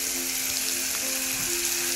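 Mushrooms frying in a little oil in a saucepan give a steady, close sizzle that holds evenly for the whole stretch, with faint stirring scrapes beneath it.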